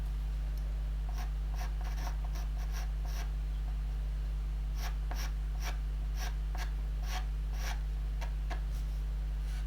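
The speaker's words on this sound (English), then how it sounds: "And definitely in with a little bit of pastel pencil now at this stage, just to get some of the smaller details on each part." Pastel pencil scratching over paper while adding small details to a soft pastel drawing of an autumn stag, a quick series of short, dry strokes in bursts, close and clear over a steady low hum.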